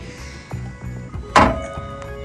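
Clunks and thumps from a BraunAbility XT manual fold-out side-load ramp being pulled out of a 2012 Dodge Grand Caravan, a few soft knocks followed by one louder metallic bang, close by.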